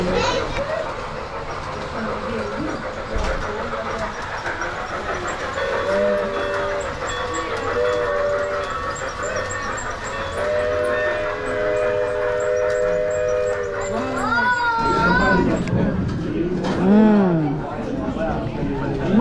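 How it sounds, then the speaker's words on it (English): A toy train hums along with sustained whistle-like tones and a rising warble near the end, while people talk and children chatter nearby. "Choo-choo train, huh?"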